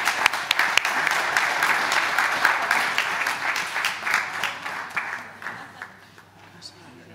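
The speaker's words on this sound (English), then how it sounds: "I ask you for a quick round of applause for Nuestra Red and Freddy" Conference audience at an Internet Governance Forum session applauding steadily, a dense wash of clapping that holds for several seconds and then thins and fades toward the end.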